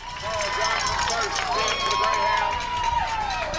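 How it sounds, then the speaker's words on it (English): Newport Greyhounds home crowd at a football game roars loudly and continuously, with shouts and whistle-like cheers rising through the din. "Listen to this Newport crowd."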